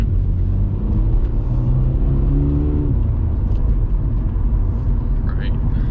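Subaru BRZ engine under light throttle play while driving, a smooth droning hum that rises and falls slightly beneath ongoing talk inside the cabin.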